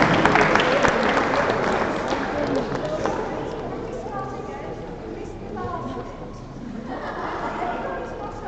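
Applause rolls through a crowd at the UWC Dilijan 2017 graduation ceremony, loud sustained clapping that slowly thins while a speaker talks over a microphone and music begins.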